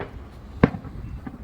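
Fireworks going off near a trawler basin marina at La Mirage on Australia's east coast, one sharp distant bang standing out against steady low background rumble, with a fainter pop later.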